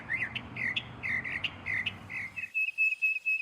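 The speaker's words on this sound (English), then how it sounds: "This one is known as a tufted titmouse." Tufted titmouse calling in a steady repeated series of clear whistled notes, about six evenly spaced phrases, followed by a sustained thin high whistle with the background suddenly going quiet.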